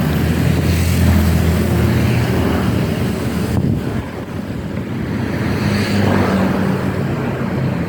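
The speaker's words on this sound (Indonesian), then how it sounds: "Ini bis melintas di jembatan Gembar" A bus crosses the new Gembar bridge on the route to Balikpapan. Its steady, roaring rumble of tyres and engine mixes with strong wind buffeting the microphone, swelling slightly toward the end, with no voices.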